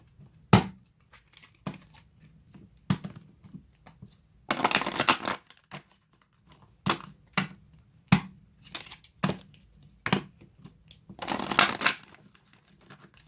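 Deck of cards being shuffled and handled: sharp, crisp riffles and flicks spaced a second or so apart, with two longer ruffling bursts, close up and with no talking.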